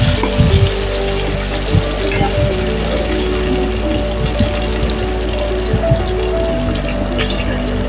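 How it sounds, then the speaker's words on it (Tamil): Sliced onions sauté with salt and curry leaves in a hot pan for a beetroot curry, giving a loud, continuous crackling sizzle close up, broken by scattered clinks and scrapes of stirring. "வெங்காயத்தை கொஞ்சம் நல்லா வதக்கிக்குவோம். கொஞ்சம் உப்பு போட்டு அதோட கருவேப்பிலையை கொஞ்சம் போட்டு வதக்கிக்கிடலாம்."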